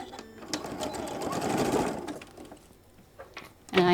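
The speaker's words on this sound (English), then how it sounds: "And I am sewing this one all the way across at the 5 or the 3/8 of an inch." A sewing machine stitches across the bottom seam of a pleated shoulder bag, a steady close whirring run that swells and then eases off, with soft handling noises and no talk.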